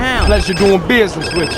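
A telephone rings in the video game GTA San Andreas, its tone sounding briefly and loudly as a character speaks over it.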